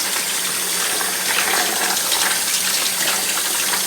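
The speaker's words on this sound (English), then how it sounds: "you can turn the shower on and really get the pressure going if you need to." Running water gushes steadily from a shower head at high pressure, flushing dust and lint from a tumble dryer filter, a continuous broadband spray heard alone and close.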